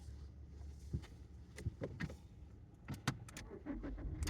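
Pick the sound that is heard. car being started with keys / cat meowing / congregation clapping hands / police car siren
car being started with keys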